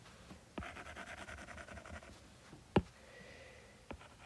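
Pen scratching numbers by hand on a worksheet during a percent increase lesson, soft steady strokes near the mic, broken by one sharp tap midway and a light knock near the end.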